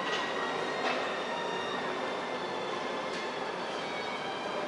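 A train moves through a Bucharest metro station with steady broadband rumble and rail noise, joined by a few brief squeals or clanks, loud and continuous, with no talk.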